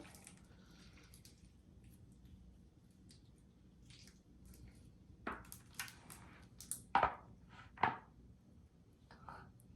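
Nickelodeon slime being squished to make bubbles, with several wet pops and squelches near the end, close and fairly loud after a quieter soft stretch.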